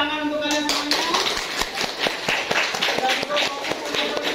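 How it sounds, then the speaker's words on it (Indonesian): A small group in a classroom claps their hands in a loose, uneven rhythm, distinct sharp claps repeating close by, with a short sustained voice-like tone at the start. "Tepuk tangan untuk kalian semuanya"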